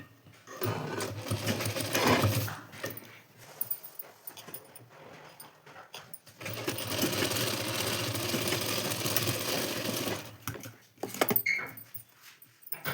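Sewing machine stitching blouse fabric, a steady mechanical whir running in two long bursts with a pause between and brief stops near the end, loud and close with no talking.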